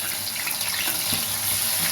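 Garlic fries in oil in a pan, giving a steady, fairly quiet hiss and crackle that runs unbroken and close for the whole moment, with no talking.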